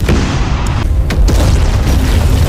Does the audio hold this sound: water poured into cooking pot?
no